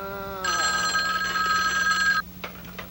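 A telephone rings after a number is dialed: a steady electronic ring tone sounds for about two seconds, close and clear, then cuts off, leaving a faint hum and a couple of small clicks.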